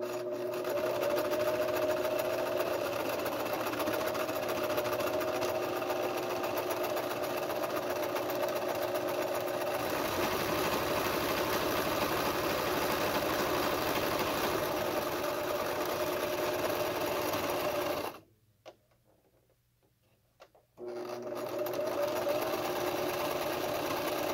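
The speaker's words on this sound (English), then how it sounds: "we're going to sew this hem together up top" A sewing machine stitches the top hem of a cloth face mask, running in a steady continuous whir that stops for about two seconds and then starts again.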